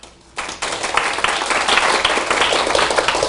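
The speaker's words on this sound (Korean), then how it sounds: "형편없는 박수 소리 감사합니다." An audience at a Microsoft Windows Azure programming talk breaks into applause, a dense wash of many hands clapping that starts abruptly after a brief quiet moment and stays steady and loud to the end.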